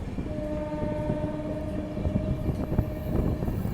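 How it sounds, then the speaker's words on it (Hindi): The Shiv Ganga Express rumbles past close by in India, a sustained horn tone riding over the heavy rolling of wheels and carriages. "और ये मेरे ख्याल से शिव गंगा एक्सप्रेस है।"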